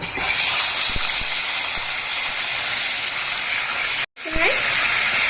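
Marinated chicken for a Kolkata-style rezala hisses loudly in hot ghee, a steady close sizzle that briefly cuts out, then resumes under a voice.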